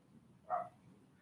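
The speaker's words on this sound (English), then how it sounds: "And there's a dog barking upstairs." A dog barks once upstairs, a single short, faint and distant bark over a quiet indoor room.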